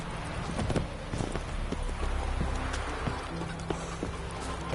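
Geralt's horse Roach gallops in The Witcher 3, a steady run of close hoofbeats that thud and clop across the whole stretch with no talk over it.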